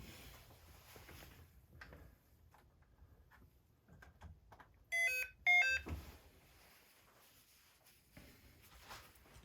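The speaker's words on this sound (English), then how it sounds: "You'll hear the startup tone" A Power Probe 3 circuit tester plays its electronic startup tone: two quick melodic beep sequences, one after the other, loud against quiet handling noise.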